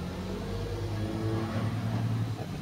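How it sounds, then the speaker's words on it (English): A truck rumbles past nearby, a steady low engine drone with broadband road noise holding at an even level for a few seconds before easing slightly at the end. "The truck passes by."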